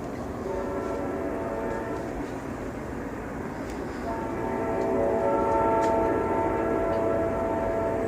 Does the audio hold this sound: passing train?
yes